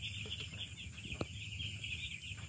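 Chickens and chicks cluck and peep in a coop, some of them fighting, giving a continuous mix of soft clucks and high chirps close by, with a faint hum in the background.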